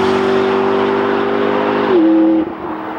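A McLaren MP4-12C sports car drives flat out, its engine holding a loud, steady high-revving note before it drops pitch with a gear change and eases off.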